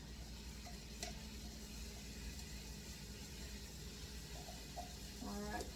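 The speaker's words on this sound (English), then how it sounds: "our ground beef is starting to cook" Ground beef, ground chuck, frying in a pot with a low steady sizzle, quiet and close, with occasional scrapes and knocks of stirring near the end.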